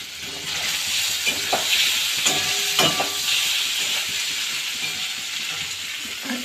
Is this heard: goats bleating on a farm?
no